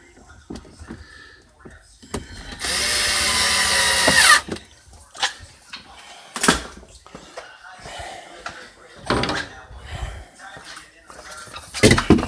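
A power screwdriver drives a screw into a panel of a Samsung refrigerator, giving one loud, close whir of under two seconds, followed by scattered clanks and handling noises with brief speech.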